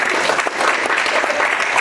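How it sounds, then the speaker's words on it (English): A room of listeners applauds a speaker at a lecture, dense clapping that is loud and close, continuous from start to finish without talk. "a big round of applause to the speaker"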